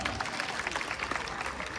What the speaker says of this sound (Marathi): पहिले स्वतःसाठी सगळ्यांनी एक वेळा टाळ्या वाजून घ्या